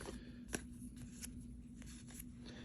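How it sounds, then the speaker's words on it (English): Old trading cards drop out of a freshly opened pack, giving a few faint, quick papery slaps and flutters close by in a quiet room. "Ooh, whoa, just dropping cards."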